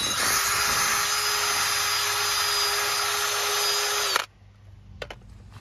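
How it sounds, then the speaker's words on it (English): A cordless drill fitted with a wire brush attachment strips paint from a Corvette C5 brake caliper, giving a loud, steady high-pitched whine with scraping grit that runs for about four seconds and then cuts off abruptly. "I already had the drill charging. We have the wire brush attachment on."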